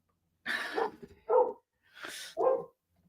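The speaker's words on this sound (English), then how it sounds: "my dog is like driving me nuts" A pet dog barks indoors close by: two pairs of short, loud, sharp barks separated by a brief pause, with no talking over them.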